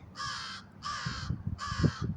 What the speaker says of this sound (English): all right, Bird, do you got a message?